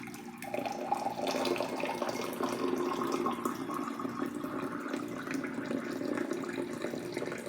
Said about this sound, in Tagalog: Yung ating baso, lagyan na natin ng tubig na mainit.